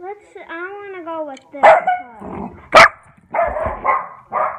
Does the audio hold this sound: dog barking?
yes